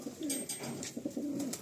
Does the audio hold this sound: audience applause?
no